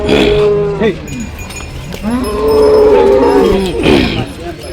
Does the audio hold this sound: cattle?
yes